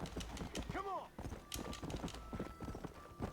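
A horse's hooves clip-clop in a rhythmic gallop in the video game Red Dead Redemption: Undead Nightmare, with a brief whinny and game sound effects while someone talks over it.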